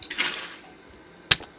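Water poured onto lava in the Minecraft video game: a soft hissing fizz at the start, then a short sharp sizzle burst near the end, with near silence between.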